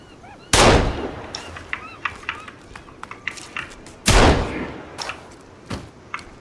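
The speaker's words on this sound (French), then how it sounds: "ça a tiré dans la construction" Gunfire in the Sons of the Forest video game: two loud, booming shots several seconds apart, each with a decaying echo, and fainter thumps and game sounds in between.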